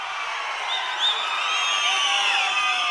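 A crowd at a political rally cheers and whoops in a steady, dense roar from near and far, with some clapping mixed into the continuous noise.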